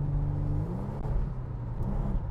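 Steady low raspy idle of a Mitsubishi Shogun 3.0 V6 four-wheel drive fitted with a Cherry Bomb exhaust, a deep continuous rumble heard alone and fairly close.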